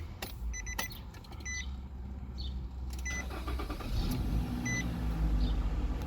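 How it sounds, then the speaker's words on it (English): A car engine idling steadily after an oil change, the vehicle parked on an incline with fresh oil still circulating; a low continuous rumble carries throughout, with a few short clicks and whirs over it and no talking. "We're gonna run the car for a little bit"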